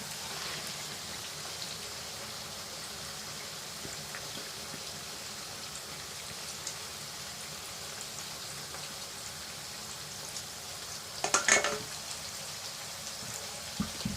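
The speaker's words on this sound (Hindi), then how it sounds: "जैसे ही हमारा चिकन जो है पिंक से वाइट हो जाए उस वक्त तक हम इसको फ्राई करेंगे" Marinated chicken and sautéed onions fry in a pan with a steady, soft crackling sizzle like light rain, with a brief louder burst of spatter near the end.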